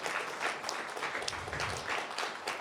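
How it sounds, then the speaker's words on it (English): Applause from a convention audience at the finale of an RPG gaming event, a steady wash of many hands clapping at moderate distance, fairly even throughout with no voices standing out. "let's give Bob a round of applause"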